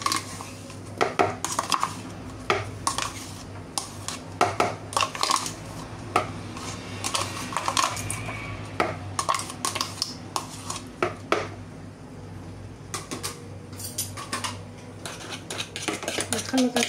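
A utensil stirs cupcake batter of dates, natural yogurt and oil in a bowl, with repeated clinks and scrapes against the bowl in an irregular rhythm, close and fairly loud.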